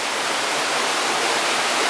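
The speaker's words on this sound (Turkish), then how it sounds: "dere köyünde bulunan bu şelale yaratıcının bir eseri olmak üzere" The Dereköy waterfall near Anamur pours in a steady, loud, broadband rush of falling water that holds constant throughout, with no other sounds.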